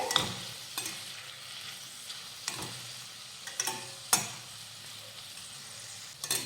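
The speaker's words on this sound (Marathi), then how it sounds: "आता यामध्ये घालूयात एक हिरवी मिरची त्यानंतर एक इंच आलं आणि चार ते पाच लसूण पाकळ्या आणि हे मिनिटभरासाठी परतून घेऊया" Green chili, ginger and garlic sauté with onions in a pan, giving a continuous sizzle broken by periodic spoon scrapes and taps, close up with no voices.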